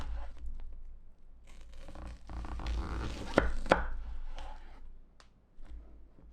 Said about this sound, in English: After some slicing, you got some nice julienne.